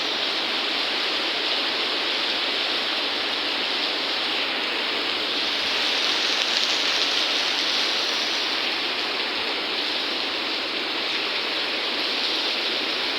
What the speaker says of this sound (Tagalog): lakas ng ulan, no? Walang tigil ng ulan